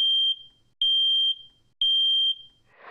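A smoke alarm beeps three times in a regular rhythm, each tone high-pitched, piercing and sustained, followed by a short burst of noise.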